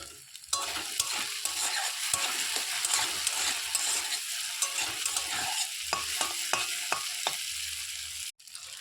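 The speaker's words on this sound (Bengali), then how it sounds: "ছানাটা ভাজা হয়ে গেছে, এরপরে নামিয়ে" Chhana (paneer) pieces fry in hot oil with turmeric and a little chili powder, a steady close sizzle broken by frequent scraping stirs and light clinks, with no voices.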